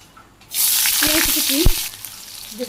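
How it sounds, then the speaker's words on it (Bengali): Cumin seeds dropped into hot oil in a village kitchen burst into a loud, bright sizzle that starts abruptly and holds steady with a few pops and clinks. "গরম হয়ে গেছে তেল দিয়ে দিই সামান্য একটু জিরা"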